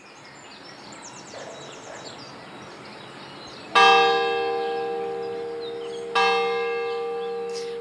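A church bell in the village of Rupit strikes twice, each loud, ringing toll decaying slowly, after a quiet stretch of outdoor ambience with faint birds.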